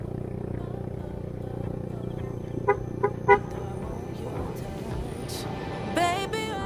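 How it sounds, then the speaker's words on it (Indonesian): Car horn on a road at night, three short honks in quick succession over a steady engine hum, followed by a faint wavering tone near the end. "Maka saya membunyikan klakson sebagai tanda permisi."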